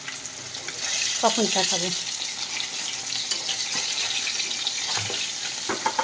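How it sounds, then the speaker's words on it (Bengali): Fish sizzles and spits in hot oil in a home kitchen pan, a steady frying hiss with faint clatter, while someone speaks briefly over it. "মাছ ভাজাটা হচ্ছে, এদিকে উচ্ছে আলু ভাজা বসিয়েছি"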